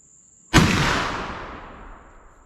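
A muzzleloader fires a single loud shot loaded with 4F black powder. The sharp blast is followed by a long decaying boom and outdoor echo, and there is no talking.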